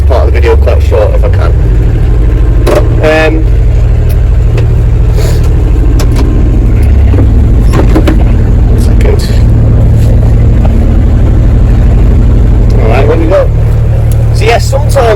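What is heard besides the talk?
tractor engine running loudly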